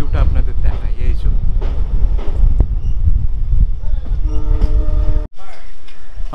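A train pulling into Pamban railway station near the Pamban bridge on the way to Rameswaram, its loud rumbling rolling mixed with wind and a brief horn-like tonal blast, followed by a short dropout.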